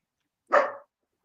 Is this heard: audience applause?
no